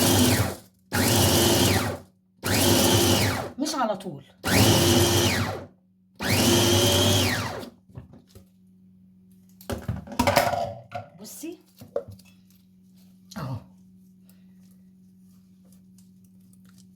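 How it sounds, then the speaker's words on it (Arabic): Electric blender mincing chili peppers with spices or coriander for harissa, five loud pulsed bursts of whirring roughly a second or two each, separated by short pauses, followed by quieter handling clatter and someone speaking. "ابدا افرم. هسمعك بفرم ازاي."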